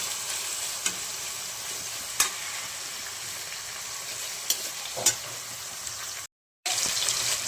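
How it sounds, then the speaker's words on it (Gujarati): Tomato, capsicum and onion roast in a pan with a steady, moderately quiet sizzle and occasional utensil scrapes from stirring, broken by a brief cut to silence near the end. "જો ટમેટો અને કેપ્સિકમ ડુંગળી તો રોસ્ટ કરવા દેવાના છે"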